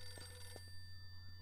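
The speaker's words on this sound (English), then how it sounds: "Is the phone ringing?" A telephone rings in the Eternal Darkness video game, heard as a faint, brief electronic bell tone over a steady low hum, with no talking.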